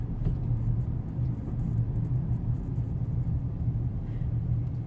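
A car rolls slowly onto a weighbridge at a rubbish tip, with a steady low engine rumble and tyre drone that stays even and near throughout.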